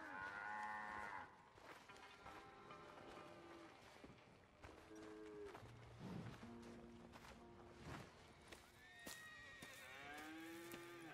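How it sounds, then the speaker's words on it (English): Several cattle in the video game Red Dead Redemption 2 moo in turn, long drawn-out lowing calls overlapping one another against a steady background hum, with no talking. "Here's the cows."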